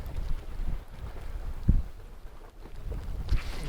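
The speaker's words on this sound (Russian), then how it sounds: "Опять ветер разыгрался." Wind gusting over open water while fishing for pike and burbot from a boat in snowy weather, a steady rough rush of air with buffeting microphone thumps and a louder gust near the middle.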